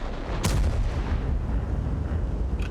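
A tank gun fires in World of Tanks, one sharp, heavy boom near the start with a rumbling tail, followed by a low, steady battle drone.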